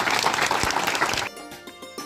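Audience clapping at a political inauguration and groundbreaking ceremony, a dense burst of applause that cuts off sharply about halfway, leaving quieter room noise and scattered faint sounds.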